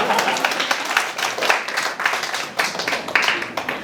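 Scattered clapping rises from a lecture audience at a youth startup mentoring session, uneven hand claps with pulsing bursts, joined by voices talking over it.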